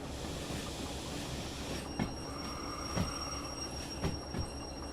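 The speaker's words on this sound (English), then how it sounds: "Right, train brake please." Train braking in the rail simulator game Derail Valley, a steady rolling rumble with faint squealing tones and a few soft clunks and knocks, continuous and fairly quiet with no talk.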